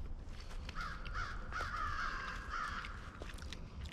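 Crows caw repeatedly in the distance, their harsh calls carrying over a steady outdoor background hiss.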